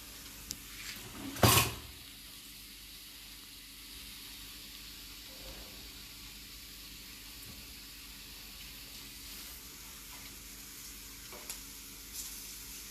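A tadka of spices tempering in a hot pan for dal, home kitchen: one short, loud sizzling burst early on, then only a faint kitchen background.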